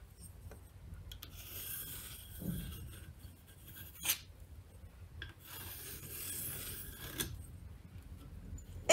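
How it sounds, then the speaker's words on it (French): A pencil rasps against cardboard while tracing a circle, giving long, soft scraping sweeps that swell and fade in a steady rhythm, close and fairly quiet. "On va commencer par tracer un beau cercle sur notre carton."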